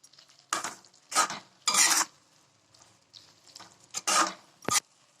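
Garlic pickle stirred in a pan with lemon juice, a spoon scraping and squelching through the thick mixture in several separate bursts, close and fairly quiet, with soft pauses between strokes and no voices.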